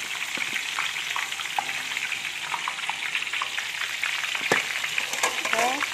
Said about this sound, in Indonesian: Tahunya digoreng tipis-tipis, digoreng, diiris tipis-tipis.